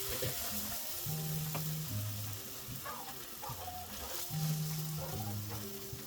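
Spam slices searing in a hot pan, a steady close sizzle with light scraping and clatter over it, no talk.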